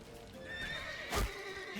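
A horse in The Witcher 3 gives a loud, clear whinny that rises and falls, along with soft clopping hooves and a brief sharp burst partway through.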